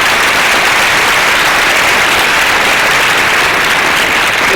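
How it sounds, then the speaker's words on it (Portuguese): A panel-discussion audience applauds speakers at a round-table event, dense steady clapping filling the room at full volume for several seconds without pause. "Palmas mais uma vez para eles, gente."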